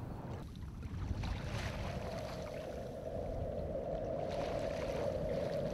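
Steady rushing water and wind noise with a low broadband wash from a sea kayak moving across the open ocean in Alaska, wind strengthening; no talking.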